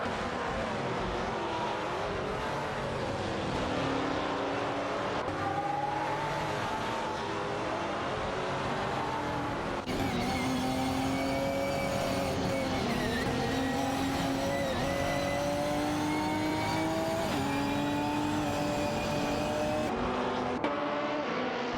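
Engine notes of a Panoz Esperante GT4 and a Porsche 718 Cayman GT4 battling in an AI-driven racing video game, with sustained rising and falling engine whine throughout, near and loud, and a sharper shift in pitch midway.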